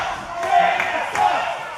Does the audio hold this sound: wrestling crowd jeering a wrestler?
yes